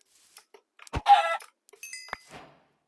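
A Minecraft chicken gives a few short, close clucks in quick succession against silence, and the second cluck is the loudest.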